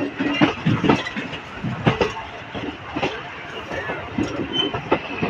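A train arrives at Sambalpur Junction, with rumbling wagons and irregular clanks and clicks of wheels over rail joints close by, continuous over several seconds, with faint voices in the background.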